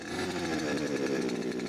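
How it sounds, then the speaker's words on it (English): A gasoline-powered drone engine, started like a lawnmower, roars in a loud, steady, buzzing drone close by, with a slight rise in pitch as it revs and no voices over it. "The drone is started like a lawnmower."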